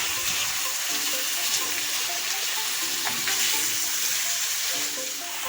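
Ground beef and browned onions frying in a pan for spaghetti bolognese, a constant close sizzle with scraping and stirring clatter from being mixed throughout, no voices.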